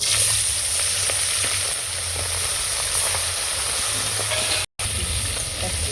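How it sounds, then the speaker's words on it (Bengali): Pomfret fish fry in hot mustard oil in a pan, giving a steady close hiss and crackle that runs almost the whole time, interrupted by one brief dropout near the end. "মাছগুলো আমি ভেজে নেব"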